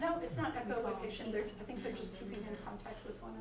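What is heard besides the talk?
None of the usual background noises is heard.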